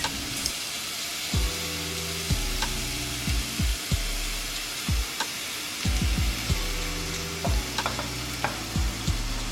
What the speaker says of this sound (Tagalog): Put a small amount of oil in the pan, and once the oil is hot enough, carefully place the patties